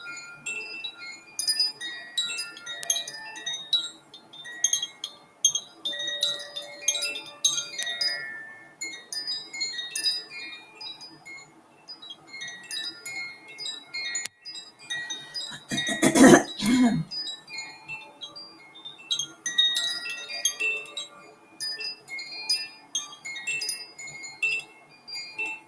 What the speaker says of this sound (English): Listening to the beautiful Koshi chimes.